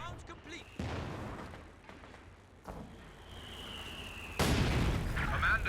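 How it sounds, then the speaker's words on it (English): Mortar barrage in Company of Heroes 2, with bursts and booming impacts rolling through a continuous battlefield din, the heaviest blast landing near the end, while a commentator talks over it. "And now he's got a mortar."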